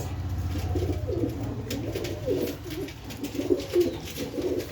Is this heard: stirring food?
no